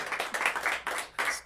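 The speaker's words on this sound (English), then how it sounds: "Got you a cheer." An audience at a FIFA 19 charity gaming championship claps and cheers for a player, delivered in short loud bursts of mixed clapping and whooping that start and stop.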